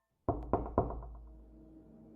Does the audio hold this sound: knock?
yes